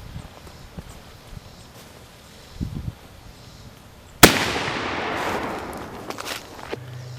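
A mini cannon fires a spent .45 caliber cartridge as its projectile at a target outdoors: one sharp, loud blast about four seconds in, its broad crack trailing off into a rushing decay, after faint rustling beforehand.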